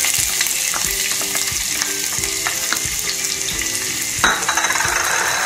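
Ginger frying in hot sesame oil, a steady close sizzle and crackle with intermittent spatula scrapes, swelling into a sharper burst of hissing near the end.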